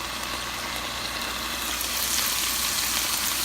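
Pork chops with apples and onions fry in a covered pan, a steady, close, even sizzle that holds at one level without a break.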